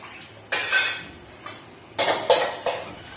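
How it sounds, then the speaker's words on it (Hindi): Dishes, pots and pans are washed by hand on a cold morning, with loud metallic clanks and clattering knocks in scattered bursts over a steady background hiss, close up and without talk. "हम जल्दी जल्दी से धुल रहे हैं बर्तन"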